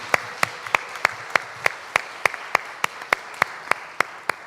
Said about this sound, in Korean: 우리 환영의 박수 함께 하겠습니다